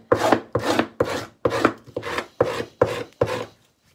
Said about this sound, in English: So I can use quite a bit of force with my scraping